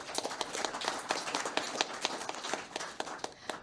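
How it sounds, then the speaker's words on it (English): A small audience at an indoor bookstore event claps, with distinct individual claps forming a modest, fairly close round of applause with no one talking. "Please give a round of applause to Will Evans."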